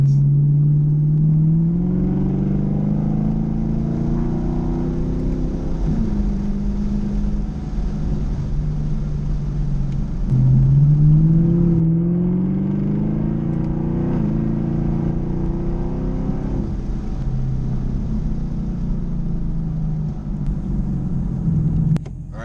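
A Chevrolet Camaro SS with a muffler delete drives around, its loud, close engine droning steadily with two rising sweeps of revs as it pulls through the gears.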